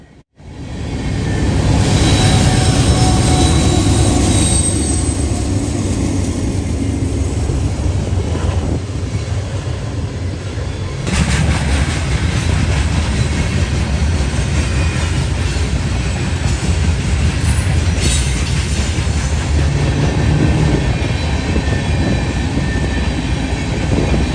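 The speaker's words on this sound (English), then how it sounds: "we see NS 171 heading westbound on the Dayton District at the Conrail tri-lights at the 162 interlocking in London." Norfolk Southern freight train NS 171 rolling westbound past the Conrail tri-light signals at an interlocking in London, Ohio: a loud, close, continuous rumble and clatter of wagons that builds quickly and holds.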